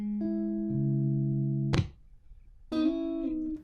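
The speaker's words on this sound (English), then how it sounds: "I recorded it at the same time with the dry signal that sounds like this." A dry, unprocessed electric guitar signal plays a few sustained, clean notes and chords, with sharp pick attacks, a brief silent gap, then another ringing chord, close and plain.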